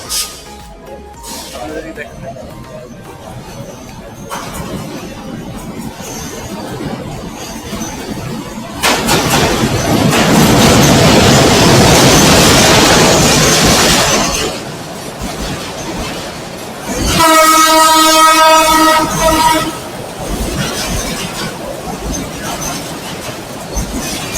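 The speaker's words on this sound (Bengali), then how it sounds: "আপনারা ইতিমধ্যে দেখতে পাচ্ছেন একটি মালবাহী একটি ট্রেন আসছে" A freight train passes near a river in Tongi, Bangladesh, loud rumbling and clattering of wagons swelling in the middle, with a long tonal horn-like blast later, while someone talks over parts of it.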